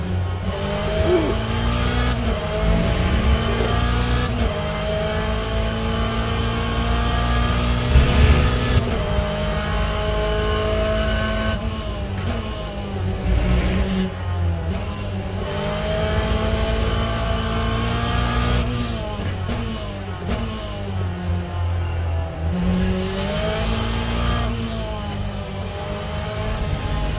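A Corvette race car engine roars on track, revving up and down through gear changes with loud, continuous in-car engine noise and occasional rising accelerations.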